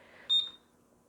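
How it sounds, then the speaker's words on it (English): A single short electronic beep from a DC-606UT-BTC battery-operated clock and up/down timer at the end of a countdown period, bright and close, quickly fading into a quiet room. "When it gets to the end of the down timer, it'll let out a 3-second end of period beep."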